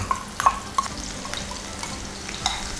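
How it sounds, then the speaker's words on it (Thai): Sliced shallots frying gently in oil after garlic, a soft steady sizzle with a few brief clicks of stirring, fairly quiet and alone. "หลังจากเรา เอากระเทียมเจียวมาเราจะ เจียวหอมแดงต่อครับ"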